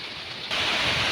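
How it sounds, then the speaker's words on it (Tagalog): Rain falling in the Caraga region, a steady wash of hissing noise that starts softer and grows suddenly heavier and louder halfway through, with no voices. "Nagpatuloy ang ulan hanggang sa gusto niya."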